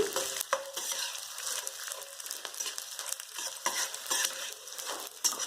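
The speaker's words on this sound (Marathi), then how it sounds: "डिंक छान तळून घ्या डिंक थोडं कच्चं राहिलं ना दातात कचकच लागतं पूर्ण फुलवून घ्या" Edible gum puffs and fries in ghee with a continuous close crackling sizzle, broken by frequent stirring clicks and scrapes in the pan.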